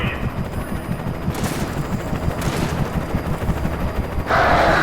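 Bursts of video game gunfire rattle over a dense, rumbling battle din, with rapid shots and brief bright cracks, continuous and fairly loud with no speech.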